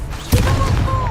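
An Incendio fire spell cast in the Hogwarts Legacy video game, a sudden whooshing burst that flares up and then sustains as a loud rushing roar with a faint tonal ring.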